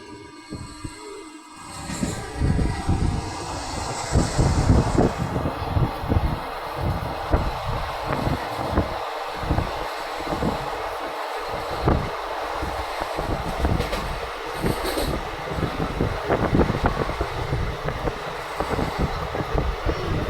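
Rhythmic wheel clatter and a low, steady rumble fill the interior of a moving passenger train leaving North Bengal, loud and continuous for the whole stretch with no talking.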